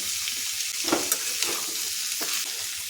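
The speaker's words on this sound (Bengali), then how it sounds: "এখন এগুলো খুব ভালো করে ভেজে নিতে হবে।" Winter vegetables with peas fry in a pan with a steady, close hiss of sizzling, broken by a few soft scraping stirs of a spatula, no talking.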